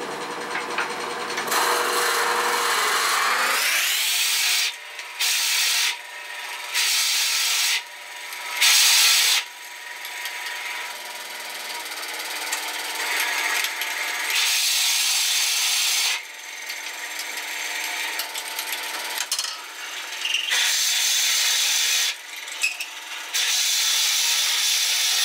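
A large drill bit hollows out a wooden vase turning on a wood lathe, a steady rasping, rubbing cut that runs loud and continuous, broken by several short pauses as the bit is eased in and out.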